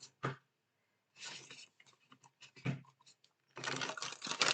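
Tarot cards being shuffled in quick bursts of dense riffling and flicking, with short gaps of silence between shuffles; close and moderately loud, no talking.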